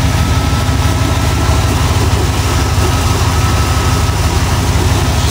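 Ford 351 V8 engine idling steadily after a head gasket job, a loud, continuous low rumble with even firing pulses throughout, close to the microphone and with no talking.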